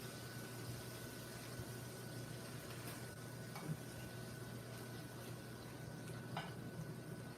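Butter sizzling in a hot pan alongside a pork chop, a steady dense crackle and hiss that holds evenly throughout with a few slightly louder pops, close and moderately loud, no voices.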